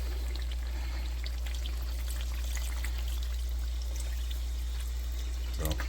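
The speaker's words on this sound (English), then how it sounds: "and now I'll add water" Water pours steadily into a pot of meat seasoned with salt, paprika and cumin for Kazan kebab, a close, continuous splashing stream over a low background hum, with someone talking.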